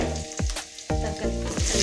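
Onions sautéing in a pan for a cauliflower fish curry, a steady close sizzle with several sharp scraping stirs of the spoon cutting through, no voices.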